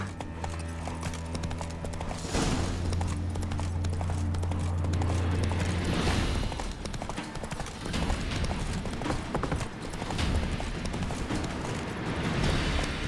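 Geralt's horse in The Witcher 3: Wild Hunt gallops with fast, steady, pounding hoofbeats that run loud and unbroken for the whole stretch, with a brief whinny early on and the rush of game ambience underneath.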